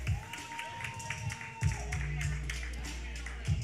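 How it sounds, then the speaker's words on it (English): Scattered clapping from an audience at a community outreach session, light and uneven, mixed with crowd chatter, a sustained tone and a few thumps. "Let's clap for her."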